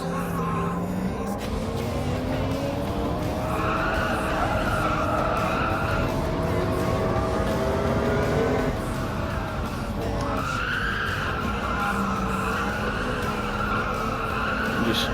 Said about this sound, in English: Extremely heavy on the brakes as well.